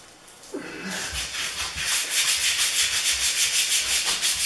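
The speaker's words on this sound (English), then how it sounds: "So it's just taking off the burrs, I guess you'd want to call it, from the rust pitting." Burrs rubbed off rust pitting on a Kubota snow blower shaft, a close abrasive rubbing that settles into a steady back-and-forth rhythm of repeated strokes.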